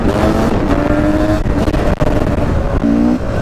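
A 250 Beta enduro motorcycle engine held at a high, loud rev, a dense buzzing roar that wavers in pitch with brief dips and surges, close and continuous with no talking.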